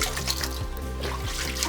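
Water trickles and splashes steadily inside the Valmiki caves, a continuous close dribble with soft gurgling throughout.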